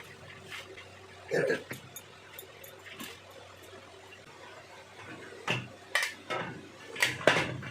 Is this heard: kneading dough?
yes